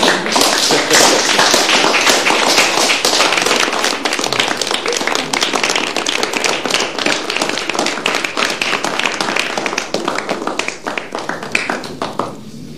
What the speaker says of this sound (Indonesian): Rekan-rekan, tepuk tangan untuk Thea.